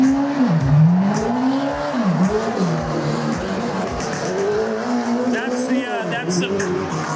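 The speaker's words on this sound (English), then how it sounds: "Single buggy's a Volkswagen 4-cylinder motor with a 4-speed transmission." A single-seat buggy with a Volkswagen 4-cylinder engine and 4-speed transmission races at a county fair monster truck rally, its engine revving and dropping in pitch through gear changes, with tire squeal, loud and close, under a commentator's talk.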